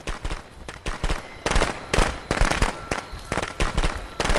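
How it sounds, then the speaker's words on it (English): Firecrackers going off in the Friday the 13th video game, a rapid, irregular string of sharp cracking bursts that keeps popping close and loud without pause. "I don't know why firecrackers were effective, man."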